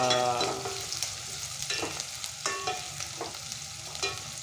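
Onion, garlic and ginger sauté in a pan with bay leaf and pepper for a homemade chicken masala, steady frying hiss close by with a few scraping stirs of a utensil, no talking.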